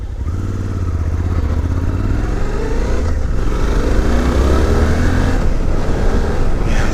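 A Suzuki V-Strom 800 motorcycle riding along a road, its engine loud and close with a continuous droning hum and wind rush, pitch rising gradually as it accelerates.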